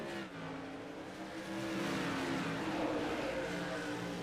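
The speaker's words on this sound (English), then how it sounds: "The 13 has company on the rear bumper of his car with Pittman and the 50 car." Race cars roar around the track at a Myrtle Beach YesterYear round, a dense, continuous engine drone that swells slightly as cars run bumper to bumper, heard from a distance without talk.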